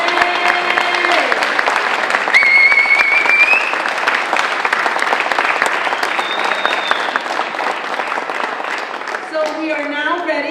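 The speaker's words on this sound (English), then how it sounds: "Ladies and gentlemen, how about rising and applauding for these graduates?" A large graduation ceremony audience applauds the graduates with sustained, dense clapping, joined by cheering and whistles across the crowd and an amplified voice speaking over it.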